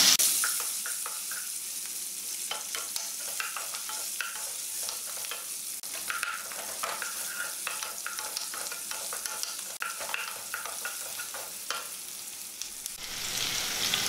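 Ginger with green chillies and curry leaves frying in a pan for radish chutney, a steady crackling sizzle with occasional scraping stirs, close and continuous with no talk.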